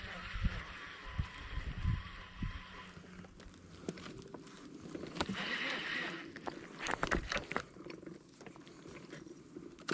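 Savage Gear E-Rider motorized kayak moving through reeds on water, irregular splashing, rustling and knocking close by with uneven loudness throughout, no voices.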